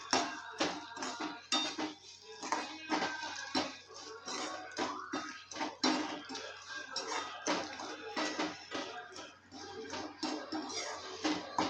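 Cashews and almonds tossed into hot ghee in a pan while making sheera, giving a steady run of clinks, scrapes and light sizzling with close, busy metallic clatter throughout.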